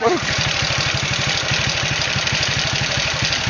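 A motorcycle engine idles steadily in a flooded warehouse, a close, even low putter with regular pulses running the whole time, with voices talking over it.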